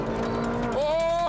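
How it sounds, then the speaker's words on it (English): A supercar engine wails while racing, a steady high tone that jumps sharply in pitch partway through as revs climb, loud and close. "Listen to the engine wailing."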